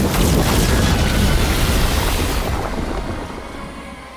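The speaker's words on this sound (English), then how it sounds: "What does it feel like when you breathe fire like that?" Dragon breathing fire to burn banners on a beach in Dragon Age: The Veilguard, a loud, continuous roaring blast of flame that holds steady and then slowly fades toward the end.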